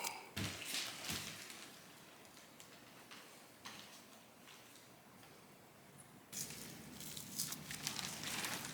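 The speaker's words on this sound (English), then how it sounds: "I'm just trying to get the skin loose from the body instead of having to cut every little single square inch" Goat skin is pulled loose from the carcass during butchering, giving quiet tearing and crinkling sounds with scattered soft ticks, close and faint, with louder rustling handling noise at the start and end.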